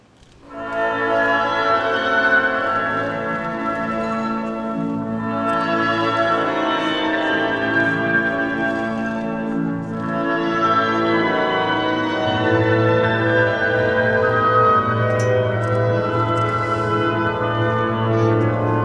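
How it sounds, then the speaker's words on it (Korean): Waltz of the Flowers plays for a figure skating short program, an orchestral piece that swells in after a quiet start and carries on loud and sustained with lush, layered harmonies. "음악은 꽃의 왈츠."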